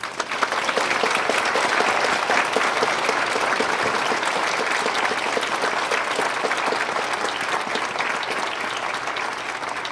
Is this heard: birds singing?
no